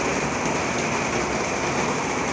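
Steady rainfall pouring onto a WISY rainwater filter and two filling storage tanks outdoors, a dense, continuous hiss of drops and running water with no pauses or voices.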